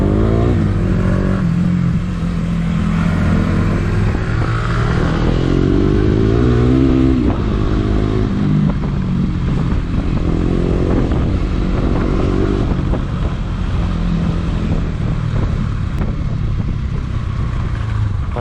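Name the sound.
motorcycle riding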